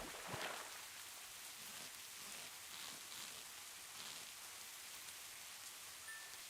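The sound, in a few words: rain falling in the video game Minecraft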